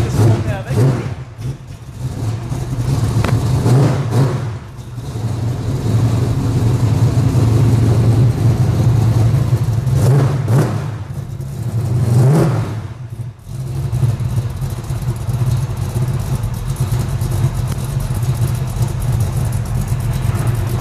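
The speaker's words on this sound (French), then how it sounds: "C'est vrai qu'elle fait un joli bruit, la ligne Magnaflow" A car fitted with a Magnaflow exhaust revs up and settles repeatedly, its deep throaty drone loud and close, with brief drops between pulls and people talking over it.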